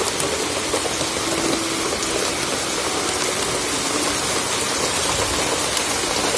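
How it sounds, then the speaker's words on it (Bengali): Heavy rain pours steadily outside, a dense, even hiss of drops on surfaces that does not let up, with no voices. "বাইরে প্রচন্ড বৃষ্টি স্টার্ট হয়ে গেছে।"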